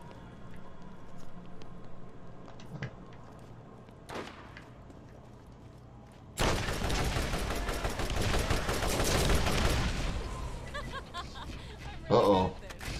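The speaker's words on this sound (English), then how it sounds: "I heard a gunshot." Gunfire in the video game Borderlands: a dense, loud burst of rapid shots fills several seconds in the middle, with a shorter burst near the end, over quieter game ambience.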